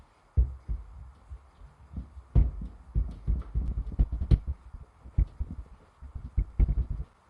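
A rolling pin works puff pastry dough on a counter, giving dull, irregular thumps and soft rolling rubs at close range with short pauses between strokes and no talking.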